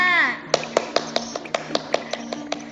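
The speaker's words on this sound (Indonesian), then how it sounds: "Ayo yang lain beri tepuk tangan dulu untuk Mbak Yuli." In an online teacher-training class, a brief voice fades out and is followed by a run of about eleven evenly spaced hand claps for a student, close and distinct with quiet gaps between them.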